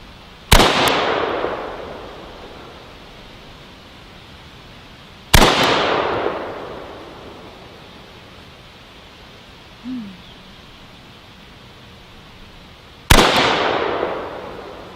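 Three sharp, loud gunshots ring out several seconds apart outdoors, each a crisp crack followed by a long echoing tail, with a brief faint bird-like call in between.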